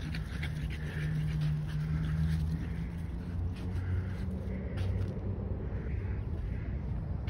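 A mini American bully dog pants steadily with heavy, snorting bulldog-style breathing, close and continuous throughout amid faint background noise.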